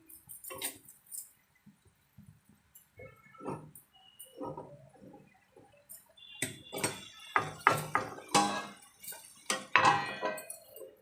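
A pot of tomato chutney is closed with its lid in a home kitchen, making a series of close metallic clinks, taps and clatters, scattered at first and then busier toward the end.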